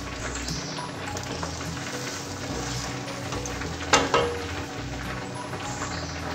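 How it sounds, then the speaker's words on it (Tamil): Water boils steadily in a pan for rava pongal, a continuous low bubbling and hiss with a brief metallic clink and stir partway through. "இப்போ தண்ணி நல்லா பாயில் ஆயிட்டுருக்கு."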